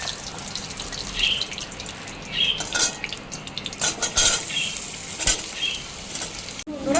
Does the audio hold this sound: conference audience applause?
no